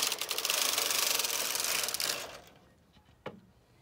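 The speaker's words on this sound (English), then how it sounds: "So I move the carriage to the left." Knitting machine carriage pushed to the left across the needle bed on a selection row, a loud rattling mechanical clatter for about two seconds that fades, followed by a single sharp click.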